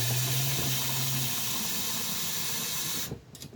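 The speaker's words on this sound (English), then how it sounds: "once I get the hot water in the measuring cup" Hot water from a tap runs into a measuring cup, a loud steady gushing hiss that cuts off near the end, leaving quieter drips and settling water.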